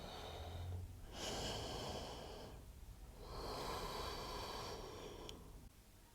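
During a quiet yoga flow, a person takes slow, deep breaths up close: two long airy exhales rise and fade, separated by softer inhales, with no talking.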